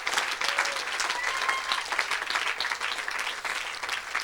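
Congregation at a French-speaking evangelistic church service bursting into sustained applause, dense and steady clapping from many hands with faint cheering mixed in throughout.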